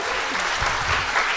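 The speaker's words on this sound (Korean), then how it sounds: "박수 부탁드립니다" Studio audience applause fills the moment, a dense, even patter of clapping without pause and no voices.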